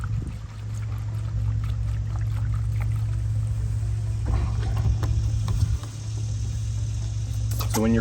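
Satin Masonry Defender concrete sealer poured from a container into a roller tray, a steady close liquid pour and trickle over low background hum, with a brief extra splash near the end.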